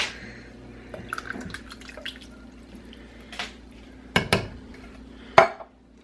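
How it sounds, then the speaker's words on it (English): Soup with two cans of petite diced tomatoes stirred in a pot, heard as scattered wet clinks and scrapes of a utensil against the pot, with a few louder knocks near the end. "And we're going to give that a stir."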